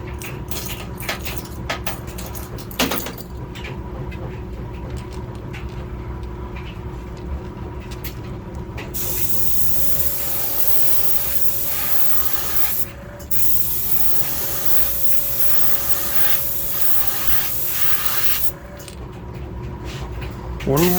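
Pearlized lime green paint hisses from a spray can onto the top of a vintage Wiggle Wart fishing lure, a steady close spray lasting several seconds with a brief pause, then spraying again amid light workshop clatter.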